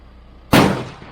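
A single sharp gunshot from a KelTec Sub2000 rifle fired at a target on a range, loud and close, cracking out of near silence and then trailing off in a brief decaying echo.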